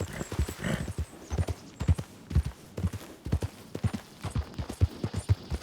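Horse hooves clip-clop steadily in Red Dead Redemption 2, a close, even run of hoofbeats at a walking or trotting pace, with no voices over them.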